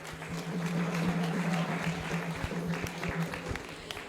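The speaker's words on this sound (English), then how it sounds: "Let's give them a huge round of applause." An audience at an awards ceremony gives a round of applause, moderately loud and continuous clapping with a low steady hum running underneath.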